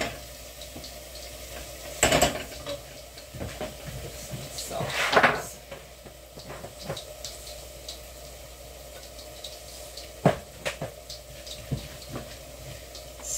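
A pot of rice and spaghetti being stirred while cooking, with scattered close clanks and knocks of the spoon against the pot over a low background hiss.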